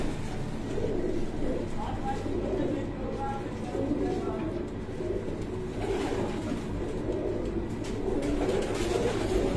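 Pigeons coo softly and repeatedly through a steady outdoor background, with people talking over them throughout.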